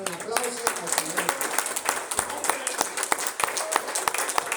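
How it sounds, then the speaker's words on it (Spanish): A church congregation applauds the Lord during a sermon, sharp scattered claps ringing out over a background of voices, moderately loud and irregular. "Vamos a dar un aplauso al Señor."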